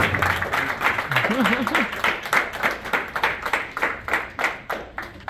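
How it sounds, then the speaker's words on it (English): Audience applause for Mayor Van Johnson at a community event, a steady crowd of hands clapping nearby that breaks into distinct separate claps toward the end, with a brief voice rising over it early on. "a big round of applause for Mayor Van Johnson"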